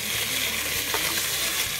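Steady crackling sizzle of bacon frying in a pot for chili, a continuous hiss with small pops, close by and no talking.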